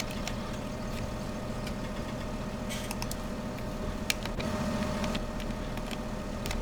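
A tractor engine idles in a farming video game, a steady low mechanical drone with faint ticking clicks running throughout.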